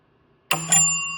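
The jackpot bell of a restored Bally slot machine, powered by a 9-volt battery, rings out loud and close with two quick bright metallic strikes that leave a shimmering ring fading away.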